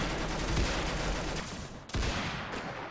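AK rifle fire in a Roblox game, a dense continuous rattle of automatic shots that briefly cuts out and resumes, fairly loud and steady throughout, with no talking.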